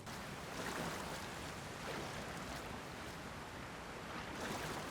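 Steady, dense rush of falling water from a waterfall in Zelda: Tears of the Kingdom, a continuous broadband roar at constant loudness throughout, with no voices.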